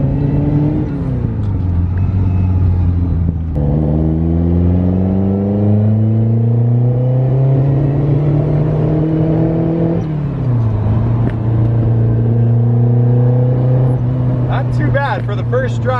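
A carbureted Ferrari 308 GTB, a barn find on its first drive in years, runs loud and close, its engine note rising and falling through gear changes, with sharp pops and crackles near the end.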